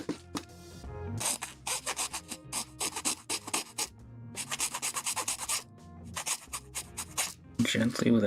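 A coarse file rasps across a part from a 1/144 HG Bandai Gundam model kit, the RGM-96X Jesta Cannon, in quick rhythmic bursts of close, scratchy strokes separated by brief pauses.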